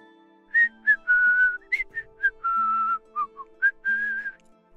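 A person whistles a lively tune while walking ahead on the way to gather firewood. The short, bright melodic phrases come close and clear, with brief pauses between notes and no talking.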